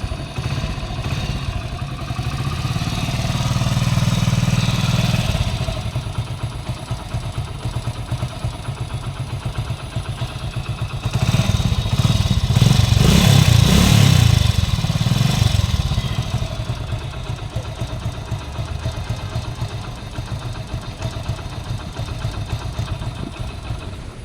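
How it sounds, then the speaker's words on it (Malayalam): A motorcycle engine idles with a steady, rumbling chug, swelling louder in two bursts of revving before settling back to a lower idle. "എഞ്ചിൻ്റെ ഭാഗത്ത് ശബ്ദങ്ങളും കാര്യങ്ങളൊക്കെ നിങ്ങൾ കേട്ടല്ലോ"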